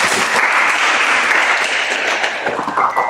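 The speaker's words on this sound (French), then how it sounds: "Vous voulez applaudir," Audience clapping at a London press conference for a reunited music group, a short burst of dense applause that stays fairly loud and even before easing slightly at the end.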